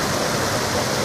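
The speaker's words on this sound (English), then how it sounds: "here we have the balancing pond, like a regulator, with the water running down" Water pours steadily from a balancing pond into a canal in Nottingham, a loud, continuous broadband rushing with no breaks and no voices.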